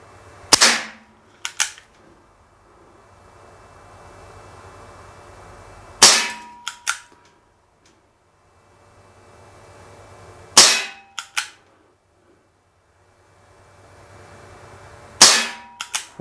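A Schofield No. 3 CO2 BB revolver fires four sharp, loud shots spaced a few seconds apart. Each shot is followed by small metallic clicks of the action being reset, with quiet gaps between.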